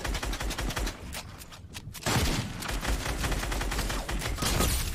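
Rapid bursts of gunfire crackle continuously in Fortnite, dense and loud, with a brief lull around the middle before the shooting resumes.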